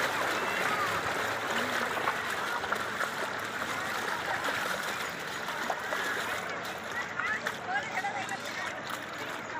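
Floodwater rushes through Karambad village in a steady, loud broadband roar that fills the whole stretch, with faint voices audible beneath it.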